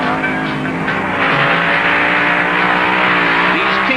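A drag racing car's engine roars loudly and continuously, its pitch shifting slightly over the few seconds, a sustained harmonic drone with no gaps.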